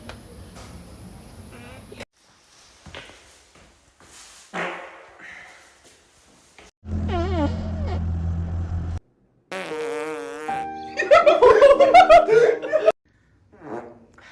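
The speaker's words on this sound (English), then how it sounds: "Oh my god. I got a fart." A compilation of boys' fart sounds brings a run of varied raspy blasts, some long and buzzing, others squeaky, close and loud, with chuckling and laughter mixed in between short gaps.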